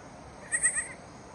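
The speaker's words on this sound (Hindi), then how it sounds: "अभी देखिए बकरी ये लड़की हुई है" A newborn goat kid bleats in a few quick, thin, high cries in a forest setting, faint against quiet background.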